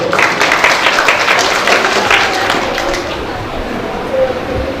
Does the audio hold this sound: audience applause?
yes